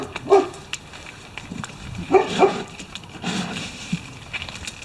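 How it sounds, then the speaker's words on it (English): A dog barks a few scattered times at a distance, with faint voices and outdoor background noise around it. "I don't like his barking"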